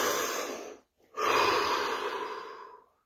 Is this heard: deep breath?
yes